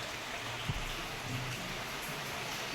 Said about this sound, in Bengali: দিন ভোর খালি বৃষ্টি হয়ে চলেছে